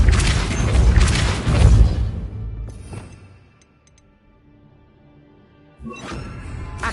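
A Depulso spell is cast in the video game Hogwarts Legacy, giving a loud, booming blast that rumbles for about two seconds and then fades to near silence. A second forceful burst starts just before the end.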